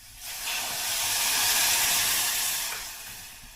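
Hot water poured onto vegetables frying in tempered oil sets off a loud, broad hiss of steam that swells for about two seconds, then fades.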